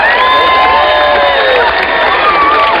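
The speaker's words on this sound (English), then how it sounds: "And once again, the applause of the people here." People gathered in mainland UK for the August 1999 total eclipse cheer, whoop and shout loudly as daylight returns, a close, excited crowd roar with scattered clapping throughout.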